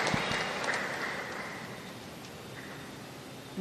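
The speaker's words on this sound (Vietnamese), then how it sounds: "đổ một tràng pháo tay thật lớn để mừng Đức Cha" A congregation at a Catholic Mass claps for the bishop, a dense hiss of applause that holds steady and slowly thins out toward the end.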